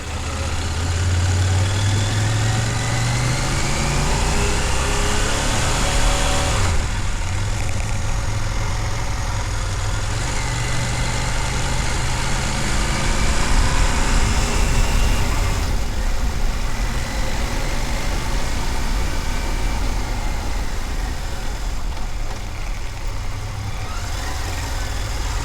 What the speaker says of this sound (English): For comparison, here's the MTX1000's engine sound.